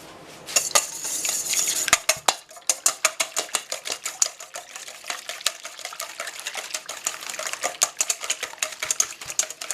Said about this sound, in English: we want to whisk that up